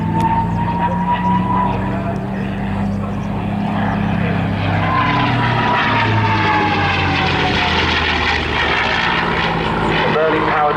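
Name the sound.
P-51D Mustang Merlin-powered fighter plane flying at airshow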